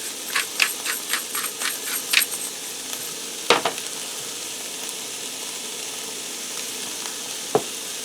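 Chicken fried rice with green onion sizzling in a pan, a soft steady frying hiss broken by several clinks and scrapes of a utensil stirring and tapping the pan.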